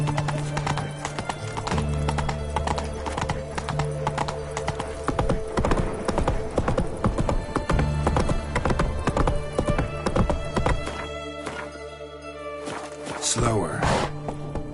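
Horse hooves clip-clop at a brisk, regular pace in The Witcher 3, loud and close, with a neigh and dense game music and ambience around them while someone speaks over the ride.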